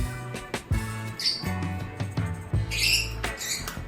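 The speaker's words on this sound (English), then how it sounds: "male cockatoo" Male cockatoo squawking among other exotic birds, with loud harsh calls bursting out over a busy mix of chirps and bird noise, several sharp cries spread across the few seconds.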